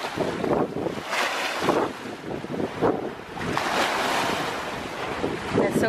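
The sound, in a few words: water surging up and splashing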